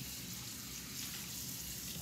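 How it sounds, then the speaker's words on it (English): Tap water runs steadily as a dish is rinsed, a continuous close hiss and trickle with no talking. "After you're done, you rinse the water off of the dish."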